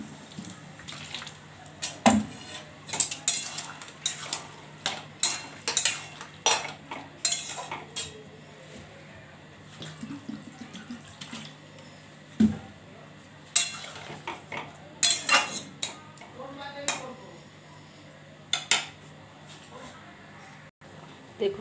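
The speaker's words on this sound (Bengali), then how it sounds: "এবার ভালো করে নাড়ব" A spoon clinks and scrapes repeatedly against a pot while fruit chutney is stirred, bursts of sharp metallic knocks coming in irregular runs with quiet gaps between them.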